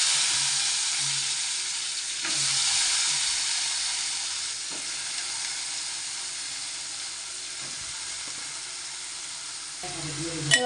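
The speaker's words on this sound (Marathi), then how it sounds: "लाल तिखट आणि जी बटाटी आपली चिरून आणि धुवून घेतले ती टाकूया" Chopped potatoes with red chili powder hit hot oil tempering in a pan, a loud continuous sizzle and hiss with a few soft stirring scrapes, close up and without speech.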